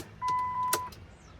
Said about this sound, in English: I hear the other fuel pump kicking in.